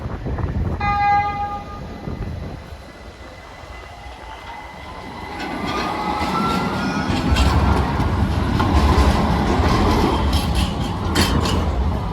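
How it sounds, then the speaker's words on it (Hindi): Train approaching and rolling past at night near Sirkeci on an Eminönü walk in Istanbul, a low rumble building from about five seconds into a steady loud roar with faint wheel squeal and a brief tonal chime early on. "ये उधर से ट्रेन आ रही है"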